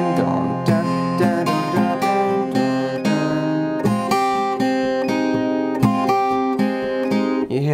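An acoustic guitar plays a riff, with a steady rhythmic strum of picked open-string notes, close, loud and clear, with no voices over it.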